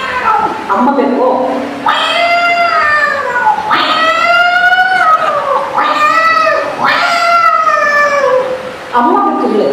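A mimicry artist uses her voice to imitate a kitten calling for its mother, producing a series of loud, drawn-out, wavering meows, about four in a row, each rising and falling in pitch.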